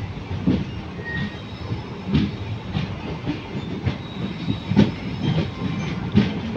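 The Mannai Express pulls out of Chidambaram station with a continuous rolling rumble and regularly spaced wheel clacks on rail joints, recorded from on board, with no talking.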